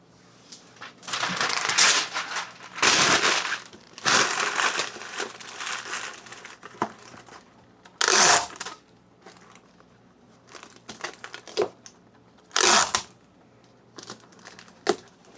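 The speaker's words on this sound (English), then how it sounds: "I think it's gonna need a little bit of paper in there to hold it in place." Packing paper crumpled in bursts into a shipping box, loud rustling crinkles in several separate bouts with quieter pauses between, no talking.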